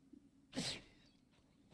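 A single short, sharp sneeze bursts out in the middle of an otherwise quiet moment in the survival game Icarus.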